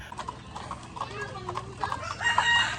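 White Leghorn chickens in a breeding pen cluck and squawk softly amid a busy farmyard background, with faint scattered calls and low rustling throughout.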